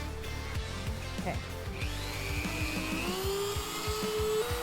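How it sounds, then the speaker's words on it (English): A power drill carves into a pumpkin with a loud, grinding whine and repeated rasping bursts as the bit bites into the flesh, the pitch rising and sliding as the motor speeds up, close by. "Give me the drill."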